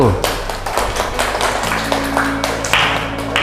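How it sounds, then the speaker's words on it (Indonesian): A short burst of scattered clapping from a small group in a classroom, with people talking over it. "Kita kasih tepuk tangan kelompok 1"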